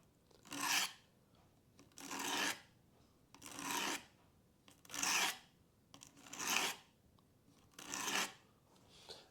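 A kitchen knife is drawn through a knife sharpener six times in a steady rhythm, each pass a crisp close rasping scrape separated by brief pauses.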